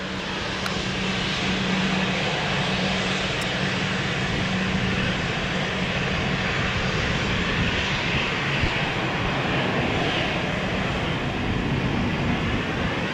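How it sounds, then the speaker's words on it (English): An airplane landing at Lisbon Airport gives a loud, steady engine roar that holds for the whole stretch without a break, with no talk over it. "Nice landing, Johan."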